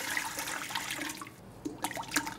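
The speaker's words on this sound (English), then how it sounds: "First, we add water." Water pours and splashes into a mixing bowl for Swiss roll sponge batter, a steady rushing stream followed by a few splashy drips and trickles at close range.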